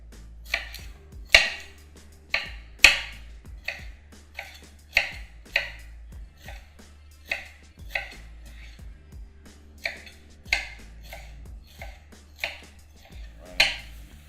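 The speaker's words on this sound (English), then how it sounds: "We're gonna go ahead and we're gonna kind of just chop these down." A knife chops broccoli florets on a cutting board in a home kitchen: a steady series of crisp, close knocks about one every half second, with no talk.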